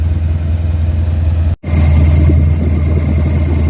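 A car engine fitted with an Edelbrock 1405 carburetor idles at about 1500 RPM, a loud, steady low rumble that cuts out completely for a split second midway before the same drone resumes.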